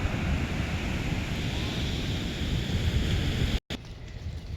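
Sea waves washing onto the shore near Chandrabhaga make a continuous broad roar with heavy wind buffeting the microphone, steady and loud, broken by one brief dropout near the end.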